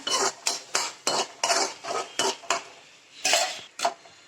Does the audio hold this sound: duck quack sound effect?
no